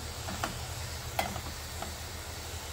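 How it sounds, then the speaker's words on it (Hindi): Spinach and onions being stirred in a pan, with a soft continuous sizzle under a few light scraping strokes of the spoon. "याला नीट आपल्याला मिक्स करून घ्यायचंय भाजीला"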